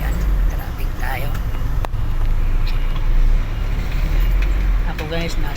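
City road traffic in Manila rumbles steadily with a constant low engine and road noise, heard from inside a vehicle while someone talks over it.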